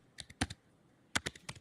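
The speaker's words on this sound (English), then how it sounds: "can you hear him typing?" Keyboard keys clacking in two quick bursts of a few strokes each, with a short pause between, fairly faint and close, no voices.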